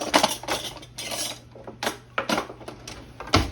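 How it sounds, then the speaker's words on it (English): A spoon scrapes and clinks against a pot while ground meat with tomatoes is stirred, irregular metallic taps and scrapes close by over a faint low hum, with no talking. "Get this stirred up in here."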